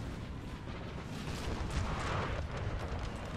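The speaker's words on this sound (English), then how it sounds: "Artillery on both sides firing." Artillery fire booms across a Napoleon: Total War battlefield, a dense, steady rumble of distant cannon blasts overlapping one another with no talk.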